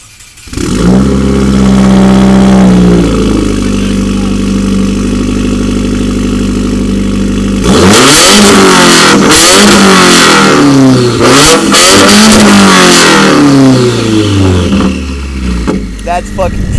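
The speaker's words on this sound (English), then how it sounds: "It's fucking loud, dude." A 2015 Subaru WRX with a straight-pipe exhaust and catted J-pipe idles loudly and steadily up close, then breaks into a series of sharp, rising and falling revs.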